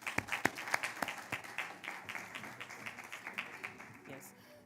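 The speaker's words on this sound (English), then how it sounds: "I believe that deserves another round of applause." Audience applause at a Ring the Bell for Gender Equality event, a fairly quiet patter of many hands clapping with a few sharper claps at first, continuing steadily and thinning toward the end.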